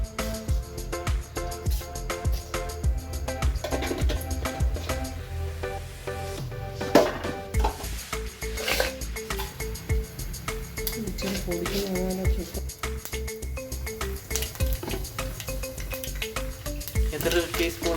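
Mustard seeds sizzle and crackle in hot oil in a pan with a steady frying hiss, broken by stirring clinks and scrapes from a utensil, heard close at moderate loudness, with faint talking.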